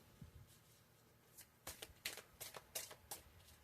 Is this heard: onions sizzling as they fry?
no